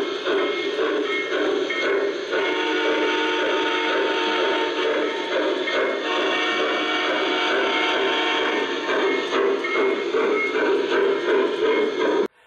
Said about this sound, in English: Trains would ship with a specific whistle.